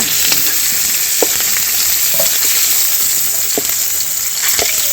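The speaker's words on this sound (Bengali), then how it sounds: "চিংড়িটা ভাজা হয়ে গেছে, চিংড়িটা তুলে নিচ্ছি।" Prawns frying in hot oil make a steady, loud, close sizzle with a few faint clicks of a utensil throughout.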